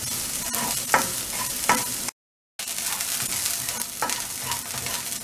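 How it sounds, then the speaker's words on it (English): Onion sautéing in a small amount of hot oil for a vegetable Manchurian, a steady loud sizzle and frying crackle broken by stirring scrapes, with a brief cut to silence partway through. "And saute this onion till it turns little golden in color."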